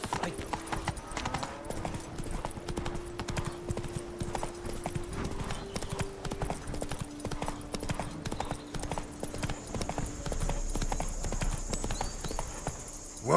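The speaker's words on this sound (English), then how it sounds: "Whoa there, Roach." Steady hoofbeats of the horse Roach trotting in The Witcher 3: Blood and Wine, an even clip-clop rhythm running throughout over a dense game backdrop with faint tones and background noise.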